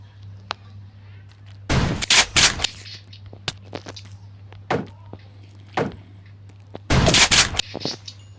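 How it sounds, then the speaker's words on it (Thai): Gunshots from a gun fired in the Minecraft video game, heard as a few sharp loud bursts spaced apart over a steady low hum, with a couple of louder clustered volleys. "บางครั้งก็ยิงแป๊บเดียวนัดเดียวตายเลย บางครั้งก็ยิงกับสองสามนัด"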